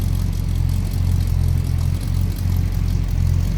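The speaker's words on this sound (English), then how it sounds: "Nice little rumble out of that 350." A 1956 Chevrolet pickup with a 350 V8 idles with a steady, deep rumble, loud and close, running evenly throughout with no voices over it.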